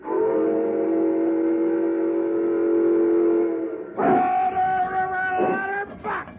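A steam train's long, loud whistle blows steadily, then cuts to shorter whistle blasts over the chugging rumble of the engine.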